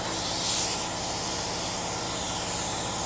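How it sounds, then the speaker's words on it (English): An air compressor in a garage where struts are being replaced on a Dodge Grand Caravan runs with a steady, loud broadband hiss and hum for the whole stretch, no voices over it. "My air compressor kicking on."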